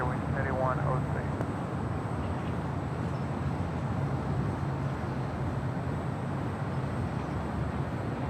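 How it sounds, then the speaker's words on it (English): A Delta Airlines Airbus A319 on the south side of Los Angeles airport near runway 25 right gives a steady, distant jet roar with a low hum, while a voice talks over it. "Next arrival here on the south side is Delta Airlines flight 2828. It's A319."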